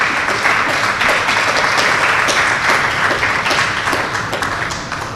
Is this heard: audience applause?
yes